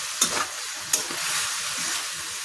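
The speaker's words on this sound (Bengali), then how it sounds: "মশলা দিয়ে মাখিয়ে জাস্ট তেলে ভেজে নেবেন" Spice-coated catla fish pieces fry in hot oil with a steady close sizzle, broken by two sharp crackles or spatters near the start and midway; no voices.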